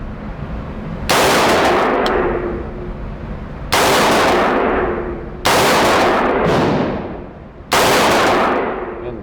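A Palmetto State Armory AR-15 rifle fires a group of shots outdoors, four loud sharp reports spaced a couple of seconds apart, each ringing briefly before fading.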